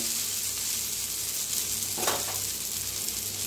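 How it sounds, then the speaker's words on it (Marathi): Dosa batter roasting on a hot pan gives a steady, close sizzle that runs the whole time, with a short brighter burst partway through. "आता मस्त अशी खालनं भाजायला आली आपली दाशी."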